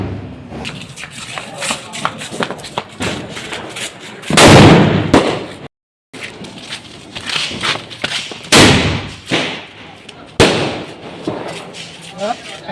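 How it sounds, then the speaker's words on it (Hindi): Diwali firecracker bombs and rockets go off at a nighttime family celebration. Several sharp, loud blasts and cracks are spread through the clip among crowd noise and nearby voices talking. "बम बजेगा अभी।"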